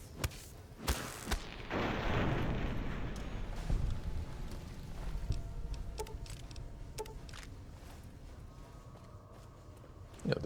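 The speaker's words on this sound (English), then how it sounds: "Opening fire." Gunfire in the video game Fallout: New Vegas during the Old World Blues DLC, a few sharp shots followed by a loud sustained burst and scattered clicks and impacts, no talking.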